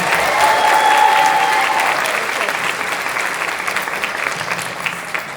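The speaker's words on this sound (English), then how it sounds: "let's have a round of applause for everybody on our team" A panel audience at Midsummer Scream, a Dark Harbor event, applauds: dense, steady clapping from a large crowd, loud and sustained, slowly fading toward the end, with a brief whistle early on.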